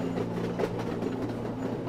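A train rumbles steadily at moderate volume, a continuous low drone with a faint rhythmic clatter underneath.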